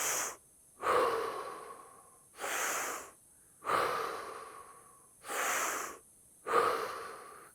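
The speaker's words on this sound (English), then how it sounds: "As you notice, I'm breathing in through the mouth." Deep Wim Hof method breathing through the mouth, with five full rhythmic cycles of strong inhales and softer exhales, close to the microphone and with no talking.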